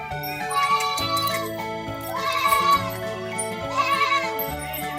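Several goats bleat in overlapping wavering cries, fairly close, with a few faint jingles underneath and no talking, at the Sonepur livestock fair in Bihar.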